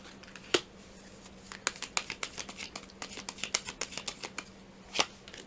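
Tarot cards shuffled and drawn by hand, a rapid run of crisp riffling snaps and slaps, close and fairly loud, with a couple of sharper card flicks at the start and end and no speech.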